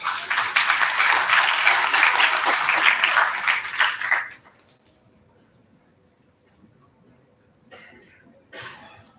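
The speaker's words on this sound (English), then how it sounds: "Let's welcome him with a big round of applause." Applause from an audience at an IEEE international conference on intelligent systems: dense, loud clapping for about four seconds that stops abruptly, leaving near silence with a couple of faint rustles near the end.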